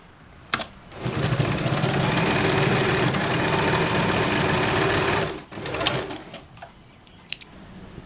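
A sewing machine stitches blouse fabric in one steady, close burst of whirring lasting about four seconds, then a shorter run with a few mechanical clicks and taps at the start and end.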